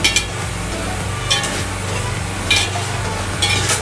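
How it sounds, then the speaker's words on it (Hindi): Cut vegetables sizzle steadily in a hot pan while a spoon stirs them, with a few brief scraping clinks against the metal, close and continuous with no talking. "तो इनको थोड़ा सा पकाएंगे, और थोड़ी देर बाद हम इसमें बंद गोभी भी ऐड कर लेंगे।"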